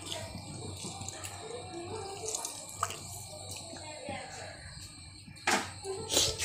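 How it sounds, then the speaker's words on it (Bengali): A lemon is rinsed under running tap water, a steady splashing hiss with small drips and clinks, while someone talks over it. "আমি ভালো করে লেবুটা ধুয়ে নিয়ে কাটতেছি"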